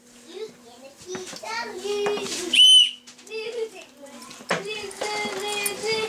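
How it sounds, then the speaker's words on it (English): A child blows a loud, shrill whistle indoors, a single short piercing blast amid the chatter of several children talking and playing nearby. "That's a loud whistle. That's an outside whistle, okay?"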